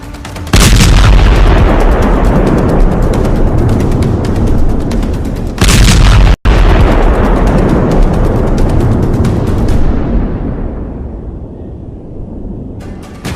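An explosion from a Houthi attack in the Red Sea: a very loud, sudden blast with a heavy rumble, then a second sharp burst a few seconds later, with the roar slowly fading away.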